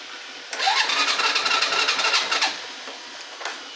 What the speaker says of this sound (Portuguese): a motinha tá ligada no neutro